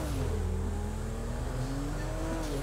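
A car driven in Grand Theft Auto 5, its engine droning steadily throughout with a slowly rising and falling pitch, loud and close, with no talk.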